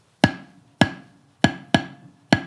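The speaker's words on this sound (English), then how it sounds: "let's say we've got quarter note, 2/8 notes, eighth rest, eighth note" Five sharp, close drum strokes in a rhythm of a quarter note, two eighth notes, an eighth rest and an eighth note, each hit decaying quickly into near silence.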